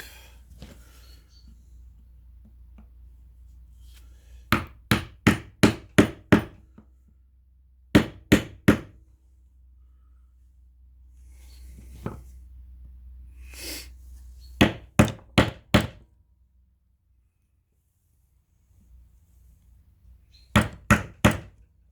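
Hammering a small wooden wedge into a brush cutter trimmer head during maintenance: sharp, close knocks in quick bursts of four or five, separated by quiet pauses and a few softer handling sounds.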